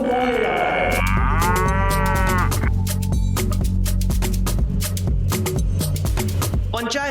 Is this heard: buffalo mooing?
yes